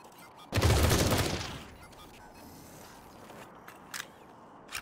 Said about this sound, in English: And he can shoot again because he had a lucky action.